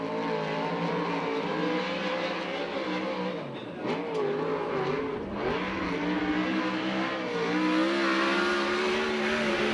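A USAC/CRA sprint car engine roars steadily through a qualifying lap at Alger, Washington, loud and sustained with slight dips and swells in pitch as it runs through the turns, with no voices.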